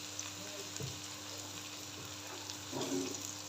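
Onion and garlic fry quietly in a pan, a faint, steady sizzle with a few soft clinks and stirring sounds.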